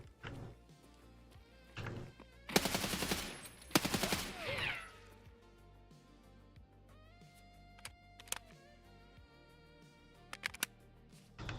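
Gunfire in the video game Escape from Tarkov: two loud dense bursts of automatic fire crack close together early on, followed by scattered single distant shots and faint ticking clicks, with no talk.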